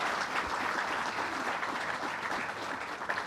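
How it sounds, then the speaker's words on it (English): Applause from a gathered audience honoring local council members at a government announcement event, a dense, continuous wash of many hands clapping that holds steady for several seconds without voices over it. "Let's give them a round of applause."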